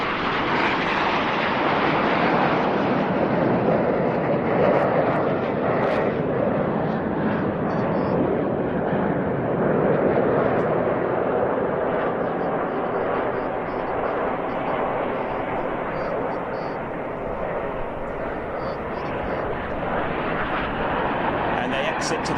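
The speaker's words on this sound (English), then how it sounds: "Simultaneous aileron rolls there from the aircraft on the outside of the formation, and now the two groups separating." Display aircraft in formation roll and split apart at an air show, a broad continuous engine roar holding steady and loud throughout, with a commentator talking over it.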